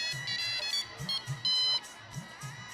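A phone ringtone plays in a scene from the Taarak Mehta Ka Ooltah Chashmah sitcom, a repeating electronic melody of bright tones in short bursts, moderately loud with a faint low voice-like murmur underneath.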